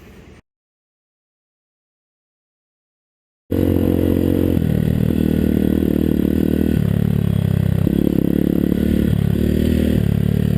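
A 2020 Hawk DLX 250 motorcycle ridden on a hill trail, its engine droning loud and close with shifting pitch as the rider works the throttle, after a brief quiet gap at the start.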